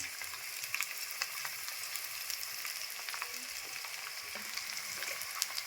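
Chopped ivy gourd fries in a hot pan with a steady, fine crackling sizzle at a moderate, fairly close level and a few sharper pops scattered throughout.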